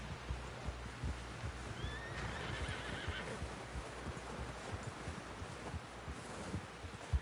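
A horse in the Western video game Red Dead Redemption whinnies once, a high whinny standing out over steady clip-clop hoofbeats, wind and rustling ambience. No one speaks.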